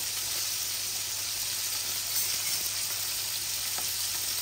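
Tilapia pieces fry in a pan, partly covered and turned now and then, making a soft, even sizzle that stays low and unbroken throughout.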